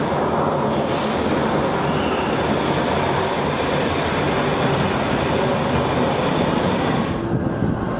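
A Manchester Metrolink tram rolls along rails near Piccadilly Gardens with a steady, loud rushing rumble and faint wheel squeal, continuous from start to finish.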